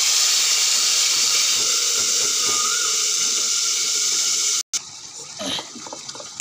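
Food dropped into hot oil in a kitchen pan, giving a loud, steady sizzling hiss with steam that cuts off abruptly, followed by quieter clatter and bubbling.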